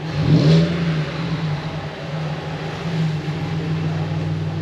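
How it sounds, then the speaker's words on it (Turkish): A rebuilt Audi A4 Cabrio with a 3.0 V6 runs steadily up close after a brief blip of revs at the start, its low, even hum holding alone with no voices. "arkadaşlar gördüğünüz gibi araba gerçekten çalıştı"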